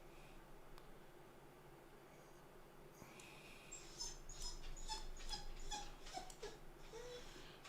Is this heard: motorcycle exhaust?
no